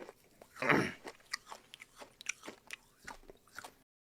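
A man chews with his lips open right up against a microphone, producing close, wet smacks and crunchy bites in an irregular rhythm that fade near the end.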